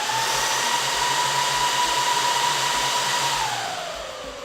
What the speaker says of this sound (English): I'm gonna basically power it on, and you can hear how, first of all, how loud it is.